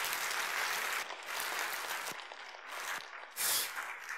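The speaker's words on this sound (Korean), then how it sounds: "박수로 영광을 돌리겠습니다." A church congregation claps together in praise during a Bible panorama sermon, a moderately quiet wash of applause that swells and dips in bursts over about four seconds.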